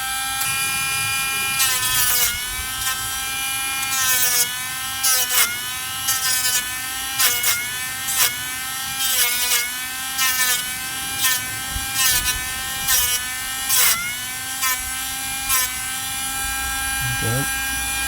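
Cheap Dremel rotary tool grinding ridges from a curbed Tesla Model 3 wheel, a high whining buzz that rises and dips as short grinding passes bite the rim, with someone talking over it.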